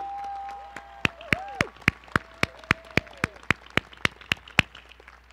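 At a college commencement ceremony, sharp, evenly spaced claps ring out one after another in a steady rhythm, about sixteen crisp hits over a quiet background, with a few brief vocal sounds early on.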